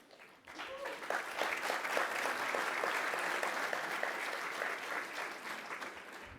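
An audience applauding during a public address by a prime minister, a dense wash of many hands clapping that rises quickly, holds steady at moderate distance and tapers slightly, with faint voices underneath.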